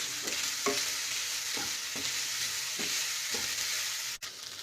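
Chicken being stirred into frying masala in a pan for Kerala-style chicken cheese balls, a steady close sizzle broken by several rhythmic scrapes of the spoon, alone with no talk.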